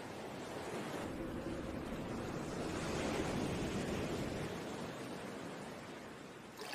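Sea waves washing onto a beach in a steady, soft wash of surf that swells toward the middle and eases off, heard alone with faint wind and no talking.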